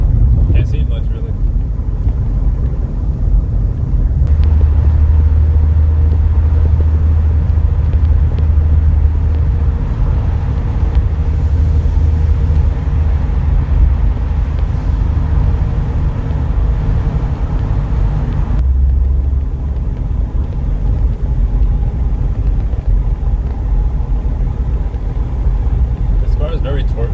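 A car driven at night with a very torquey engine, the low engine drone and road rumble running continuously beneath someone talking throughout, with a deeper surge in the middle.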